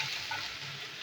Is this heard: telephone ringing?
no